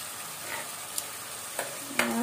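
Overheated cooking oil hissing steadily in a pan, a continuous moderate sizzle with a few sharp crackles and spits near the end.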